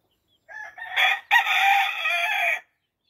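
A game rooster crows loudly and close by, two long strained calls back to back with a brief break between them, nothing else around.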